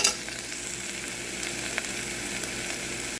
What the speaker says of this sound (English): So I'm just kind of stirring it in the mixture here.